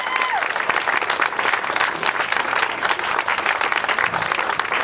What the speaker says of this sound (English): Everyone give a round of applause to my wife, April.